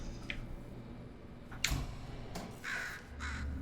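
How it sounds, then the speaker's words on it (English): A crow caws several times in Portal 2 mod Mel, harsh calls arriving in short bursts over a low ambient game background, fairly close and moderately loud. "Well, there's a bird,"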